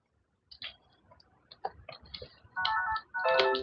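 A phone ringing after a few soft ticking clicks: two loud electronic ringtone bursts with sustained tones fill the last second and a half, close and clear in an otherwise quiet room.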